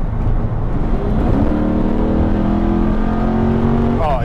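A 2006 Pontiac GTO accelerating hard with a loud, close engine roar that climbs steadily in pitch through the gear, a brief shift and tire-spin moment audible near the start, the engine noise dominating throughout.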